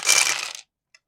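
A handful of dice for the Tide of Iron board game tumble across a tabletop in a short, loud, rattling clatter, followed by a single faint click as the last die settles.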